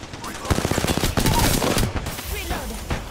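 Gunfire in the battle royale video game Apex Legends: a quick string of evenly spaced automatic shots, loud and close, followed by quieter scattered noise.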